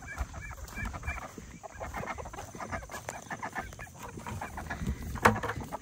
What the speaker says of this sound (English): And we have a chicken out, of course. Our little turkin.